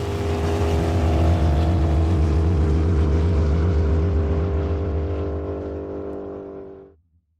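A supercharged Dodge Challenger Hellcat runs with a loud, steady, deep engine drone that holds strong and then fades out as it passes away into silence.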